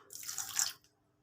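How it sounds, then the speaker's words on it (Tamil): Water poured over a teaspoon of basil seeds to rinse them, a brief close splashing pour of under a second that stops abruptly into quiet. "அது தண்ணி ஊற்றி வாஷ் பண்ணிடலாம்"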